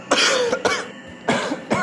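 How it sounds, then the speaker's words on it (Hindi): A man coughs several times in quick, harsh bursts, close and clear, with a brief throat-clearing quality and short pauses between them. "कुछ नहीं, थोड़ी सी खांसी बस।"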